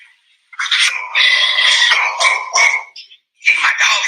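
A pet dog barking and whining close by, a loud, high-pitched series of yelps and barks in two bursts separated by a short pause.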